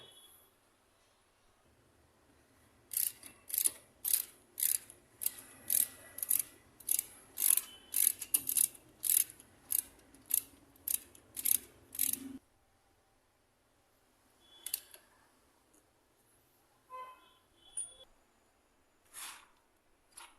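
A wheel bearing nut on a Maruti Suzuki Alto is tightened with a ratchet, a run of about fifteen quick, regular clicking strokes, then a pause and a few scattered metallic clicks, close and fairly quiet.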